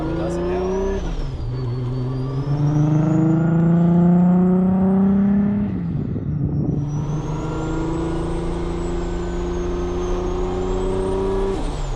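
A Lexus IS300 with a swapped 1JZ turbo engine accelerating through the gears, a loud rising engine drone, a gear change midway and a faint turbo whistle above it, heard from inside the car.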